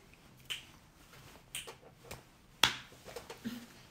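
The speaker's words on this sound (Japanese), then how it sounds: "指パッチン、俺めっちゃなるで" A single sharp finger snap stands out crisply and close, surrounded by a few softer clicks and small handling noises in an otherwise quiet room.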